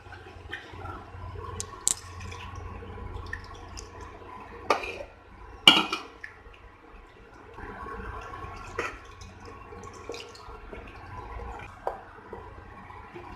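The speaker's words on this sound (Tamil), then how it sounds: "இப்போ இதில் கொஞ்சம் கொஞ்சமாக பால் விட்டு இந்த கட்டி இல்லாமல் நல்லா மிக்ஸ் பண்ணிக்கோங்க" Flour and milk are stirred together in a pan for a white sauce, with soft, wet squishing and occasional clinks of a spoon against metal, close and quiet, no voices.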